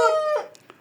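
A rooster recently bought from breeders in Tashkent crows once, a short harmonic call that fades quickly, followed by a couple of faint clicks.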